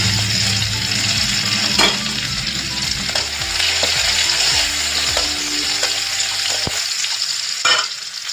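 Green chilli and crushed garlic frying in hot oil give a continuous loud sizzle, broken by scraping stirs and a few clinks of a utensil against the pan.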